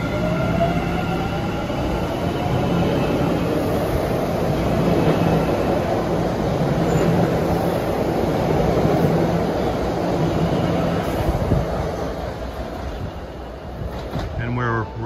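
An MBTA Orange Line subway train rolls past at Assembly station beside the commuter rail tracks, a loud continuous rumble and rail roar lasting throughout, fading slightly near the end.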